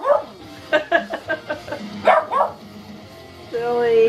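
Pet dog barking indoors, a quick string of about eight sharp barks and yips, then a drawn-out whine at the end.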